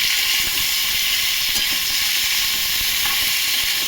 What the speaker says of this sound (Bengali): আলুটা ফুলকপিটা দিয়ে দিলাম। নাড়াচাড়া করে শুধু ভাজবো